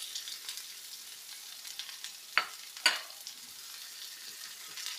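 Chopped onion frying in hot oil crackles and sizzles softly and continuously, with two sharper spitting pops close together partway through.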